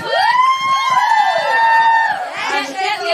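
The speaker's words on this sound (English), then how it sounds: "I think that deserves a round of applause." Concert crowd in Japan erupting in loud, high-pitched cheering and sustained screams that swell and overlap, with shouts rising from the mass of voices.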